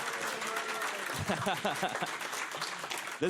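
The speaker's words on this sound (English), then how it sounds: "We can make some noise and clap and stuff if you want." Clapping from a convention panel crowd at SGDQ 2019 that starts scattered and thickens, with voices talking over it.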